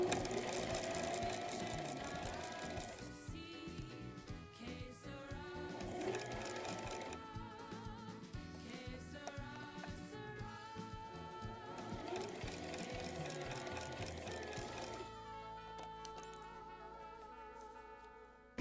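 A domestic sewing machine stitching the side back pieces of a dirndl, running in steady close whirring bursts that stop and restart several times, with brief quieter pauses between seams.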